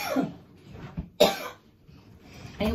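A person with a soft, loose cough coughs a few times close by, separate bursts with quiet gaps between them.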